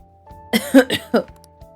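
A character in the video game Persona 5 Royal coughs several times in close succession, a few short, rough bursts that are loud and near, with a faint steady background hum behind them.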